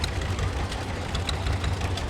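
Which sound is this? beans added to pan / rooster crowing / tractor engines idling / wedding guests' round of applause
tractor engines idling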